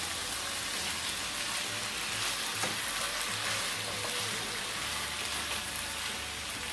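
Ackee is tipped into a hot pan and fries with a steady, dense sizzle, crackling evenly throughout at moderate volume, with no voices.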